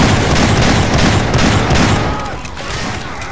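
Sustained rapid gunfire in the zombie shooter Left 4 Dead 2 on the Dead Center campaign, loud and dense for about two seconds before easing into quieter scattered shots.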